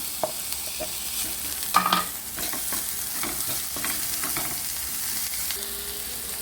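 A Goan squid stuffing with capsicum and potato fries in a pan, giving a steady close sizzle broken by scattered clicks and scrapes of stirring, with a brief louder clatter near the start.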